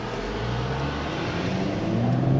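A Mercedes-Benz E53 AMG engine hums steadily from inside the cabin, its low drone slowly rising in pitch as the car accelerates along a twisting road.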